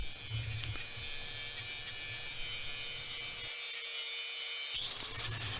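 A power tool grinds and buzzes continuously while cleaning up a metal pipe before welding, steady and close, with a brief drop in the low rumble partway through and no voices.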